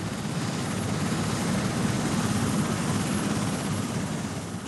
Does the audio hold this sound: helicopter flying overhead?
yes